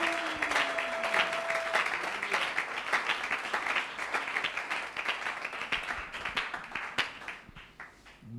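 A church congregation at a worship service of miracles and healing claps in acclaim, sustained applause that thins out toward the end into scattered individual claps.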